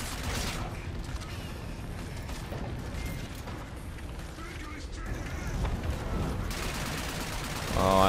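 Space battle gunfire in the Call of Duty Infinite Warfare campaign: continuous rapid shooting with mechanical clatter and a low rumble, fairly faint and steady, with a brief bright flourish at the end.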